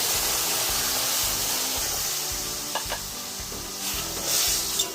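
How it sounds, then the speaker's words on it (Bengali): Semolina and milk stirred in a pan, a rhythmic scraping swish repeating over a soft, steady hiss, with a few light clinks near the end. "সুজিগুলোকে ভালো করে দুধের সঙ্গে মিশিয়ে নেব"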